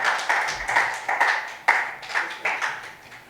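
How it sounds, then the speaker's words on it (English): A round of applause from a small audience at a One Love football gathering, a few distinct claps rising and falling in uneven bursts rather than a full dense roar. "Could I ask you all again just to repeat that round of applause?"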